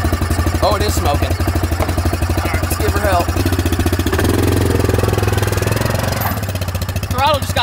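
A brand-new four-wheeler ATV runs loud and close with its throttle stuck, a steady throbbing engine drone under excited speech.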